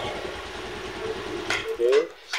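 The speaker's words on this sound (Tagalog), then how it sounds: "umilaw na yung neutral niya, tumandar na rin yung kanyang motor mga DJK" A Rusi 125 motorcycle engine runs after starting, giving a steady low, pulsing rumble for about a second and a half before it cuts out. Brief vocal sounds follow.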